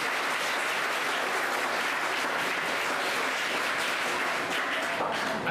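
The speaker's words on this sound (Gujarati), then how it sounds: "તો આપણે સૌપ્રથમ તેનો તાળીઓથી વધાવી લઈએ." School audience applauding invited guests at a ceremony, sustained dense clapping from a large crowd, steady and fairly loud throughout.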